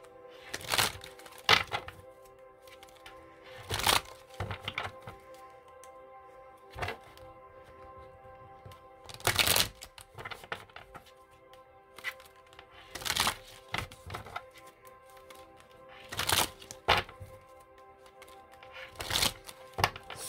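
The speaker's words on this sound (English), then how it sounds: "So let me shuffle you some cards here." Tarot cards are shuffled close up in quick, crisp riffling bursts that recur every few seconds, with soft handling rustles between them and no talk.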